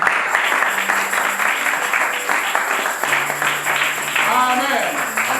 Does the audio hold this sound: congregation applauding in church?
yes